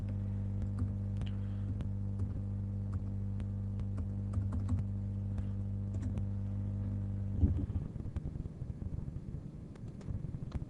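Keys clicking on a computer keyboard as a budget figure is typed, steady faint taps over a constant low hum, ending in a brief louder shuffle.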